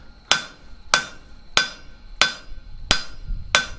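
Six evenly spaced, ringing hammer blows come down full face on a 3/8 steel bar lying on an anvil as it is flattened on the diagonal during blacksmith forging. Each strike is loud and close with a bright metallic ring that decays quickly.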